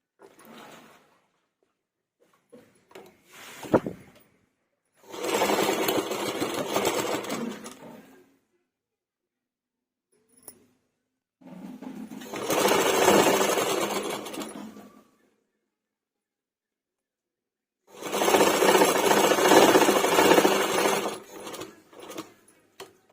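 A sewing machine stitches a straight seam on a blouse neck piece as it is altered. Three distinct runs of steady mechanical whirring are heard up close, separated by quiet pauses with faint handling clicks and no talk.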